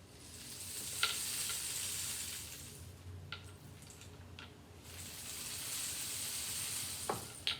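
Homemade rainstick fitted with nails, with beads cascading through it in a soft, continuous hissing patter that swells, fades briefly, and returns, punctuated by a few light clicks.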